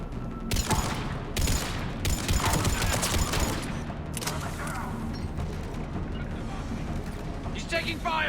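Rapid gunfire and explosions in the video game Mass Effect 3, a near-continuous barrage of shots and booms with brief lulls, while voices shout over the fighting.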